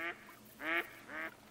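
Ducks in theHunter: Call of the Wild quacking as they come in to land, three short nasal quacks spaced about half a second apart, moderately close and alone.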